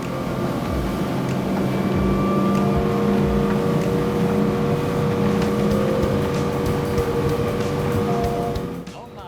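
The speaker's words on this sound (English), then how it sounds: "Not bad for this Aquador 250 HT, huh? 30 knots speed." An Aquador 250 HT motorboat's outboard engine roars steadily at 30 knots with rushing water and wind, loud and continuous, then cuts off sharply at the end.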